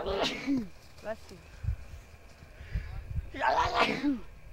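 Two sneezes from a child during a horseback ride in Kansas City, the first loud and close, the second louder at the end, with short quiet sounds in between.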